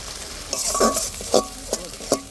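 Onion paste dropped into hot oil with whole garam masala and a bay leaf, a loud close sizzle broken by several sharp spoon-stirring scrapes and splutters, no voices.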